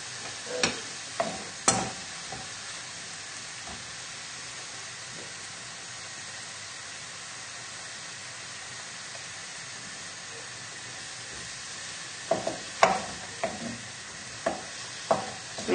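Steady broadband sizzle of bacon and mushrooms frying in a pan, with occasional clinks and scrapes of a utensil near the start and end.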